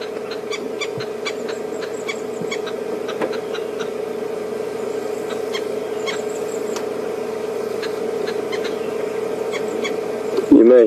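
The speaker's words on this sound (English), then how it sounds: "You may hear some birds chattering in the background." Bursts of rapid, chattering bird calls from green wood hoopoes repeat over a steady low hum, fairly distant and recurring throughout.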